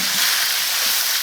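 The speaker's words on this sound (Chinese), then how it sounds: "我们再下入这个洋葱和这个叫啥？ 大葱头、大葱节，给它炒一下" Onion and scallion pieces stir-fry with homemade sour-spicy chopped chili, giving a loud, close, continuous hiss of hot oil with no pauses and no voices.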